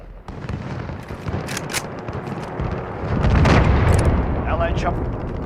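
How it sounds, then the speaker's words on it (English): Cruise missile strike in Call of Duty Modern Warfare: a rumbling, roaring blast swells and lingers as a deep continuous boom, with brief radio-style voice chatter over the top. "Allied cruise missile launched."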